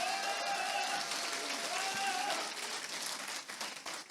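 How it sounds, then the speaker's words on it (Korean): Sustained applause from a large crowd at a Democratic Party members' convention, a dense steady wash of clapping that stays loud and near, then thins slightly toward the end, with a faint voice over it early on. "이분들에게 뜨거운 박수 다시 한번 부탁드립니다."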